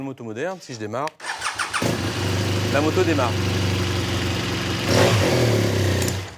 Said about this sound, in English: on a modern bike, if I press the starter, the engine starts